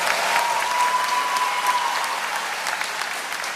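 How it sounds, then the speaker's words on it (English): An audience at a school awards event applauds students with sustained, even clapping that fills the space at a steady level throughout, and no voices come through. "So give them a round of applause."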